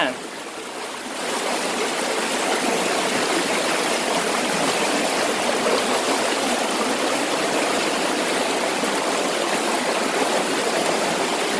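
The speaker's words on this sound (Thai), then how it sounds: "น้ำใสไหลเย็นสบาย สายน้ำไหลไปบ่ไหลกลับ" Clear water flows steadily in a stream, a continuous close rushing and trickling sound that runs alone the whole time after a brief quieter start.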